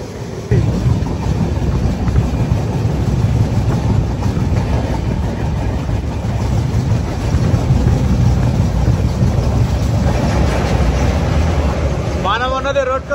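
A Howrah–Chennai AC biweekly superfast express crosses the Rodgam railway bridge near Rajahmundry, making a loud, steady rumble and rattle from start to finish, with a short high squeal near the end.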